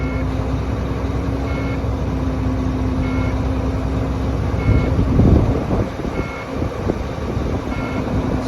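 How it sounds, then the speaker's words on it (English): A truck's low air pressure warning buzzer sounding during air build-up at 1200 RPM, a steady tone held over the loud running diesel engine, with periodic beeps and a brief mechanical clatter midway. "We're going to watch that our low air warning shuts off by 60."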